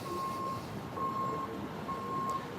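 Reversing beeps from a garbage truck stopped at a street crosswalk, three evenly spaced steady tones heard at moderate distance over a constant low traffic and engine rumble.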